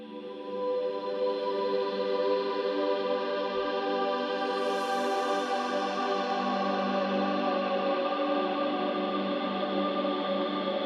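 Layered ambient guitar parts, slightly panned, with light EQ and reverb, hold a steady sustained wash of droning harmonic tones at even loudness throughout, with no voice.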